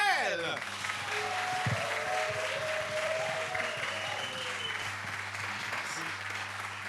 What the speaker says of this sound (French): Et on retrouve Kael, qu'on applaudit bien fort.